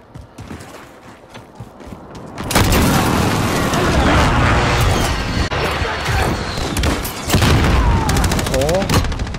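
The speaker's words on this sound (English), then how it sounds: "Enemy precision airstrike inbound." An airstrike in the Call of Duty video game hits after a quieter opening, unleashing loud booming blasts mixed with rapid gunfire that stays dense and heavy for several seconds, with a few sharp single shots near the end.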